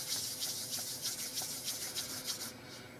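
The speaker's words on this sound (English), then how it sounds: "now I ask you rub your hands 10 times" Palms rubbing briskly together, a close, dry swishing repeated in quick even strokes about ten times with no talk.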